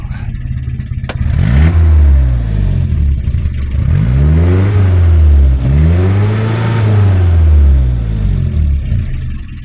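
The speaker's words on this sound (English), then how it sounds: "give it a couple reps just so you can hear it come off idle here" Nissan 720 pickup engine fitted with a Weber DGAV 32/36 carburetor, loud and close, rising off idle in three sweeping revs that each climb and fall back before settling.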